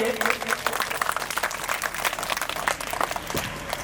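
A crowd at a school Independence Day event applauds a young social worker guest, dense sustained clapping filling the space throughout.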